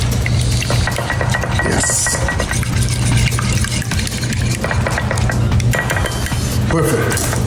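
Egg mixture for muffin-top French toast whisked in a bowl in a home kitchen, with continuous close clinking and scraping of the whisk against the bowl and a brief word spoken.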